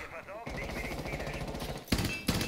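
Gunfire in the Rainbow Six Siege video game: a rapid automatic burst rattling for well over a second, then two sharp separate shots close by, fairly quiet overall.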